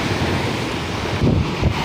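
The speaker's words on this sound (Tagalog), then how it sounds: "Lalaki ng mga alon mga kaiboy oh. Pagmasdan nyo yung mga alon oh." Continuous roar of ocean surf at Balugo, Leyte, with wind buffeting the microphone, swelling briefly as waves break close by.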